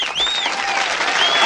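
A crowd applauding steadily and fairly loudly, dense clapping filling the whole moment, with a faint tonal whistle-like sound gliding over it.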